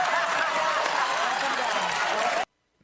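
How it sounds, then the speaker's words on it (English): Studio audience of a daytime talk show bursting into dense laughter and applause, a loud steady wash that cuts off abruptly into near silence. "And then they all laugh and applaud."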